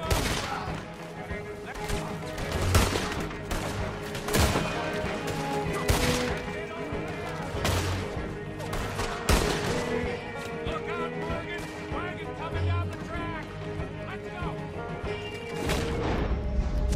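Repeated gunshots ring out in a Red Dead Redemption 2 gunfight, sharp cracks at irregular intervals over a steady layer of music and game ambience, with voices talking in between.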